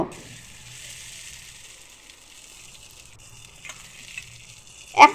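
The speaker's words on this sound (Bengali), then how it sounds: "এরপরে দিয়েছি বেটে রাখা মশলা এখানে আছে গোটা জিরে ধনিয়া শুয়ো লঙ্কা গরম মশলা দিয়ে ভালোভাবে কষে নেব" Ground spice paste with cumin, coriander, chilli and garam masala sautéing in a pan for a jackfruit curry: a faint, steady hiss of sizzling, with a few light clinks and a sharper clatter at the end.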